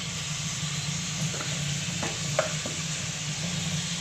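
Spice masala with turmeric, chili powder and chopped tomatoes sizzles steadily in hot oil, a continuous close frying hiss with a few faint stirring clinks.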